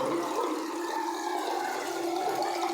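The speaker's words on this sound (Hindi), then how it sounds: "अभी सभी पानी खाली हो गया।" Water rushes and gurgles steadily as it drains out of a pipe just cleared of a blockage, a loud continuous close-up flow with no speech.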